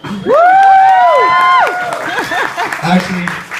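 Wedding guests at a reception toast break into loud, close cheering, with rising whoops and shouts over a wash of clapping that gradually settles into scattered calls and applause.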